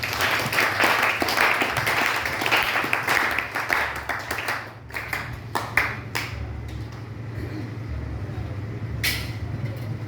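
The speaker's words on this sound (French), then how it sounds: "On acclame le Seigneur." Church congregation applauding in a busy hall, dense clapping and cheering that fills the first half, thins around the middle and trails into a lower murmur of crowd noise with scattered claps.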